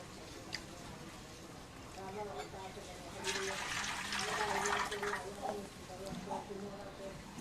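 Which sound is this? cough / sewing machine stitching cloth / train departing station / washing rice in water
washing rice in water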